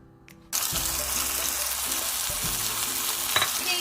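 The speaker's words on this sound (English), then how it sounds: "on this you will be adding about 2 tablespoons of olive oil. Let that heat up. And then add your mushrooms in" Mushrooms drop into hot olive oil in a pan and a loud sizzle bursts in, then holds steady and close with a few scraping stirs.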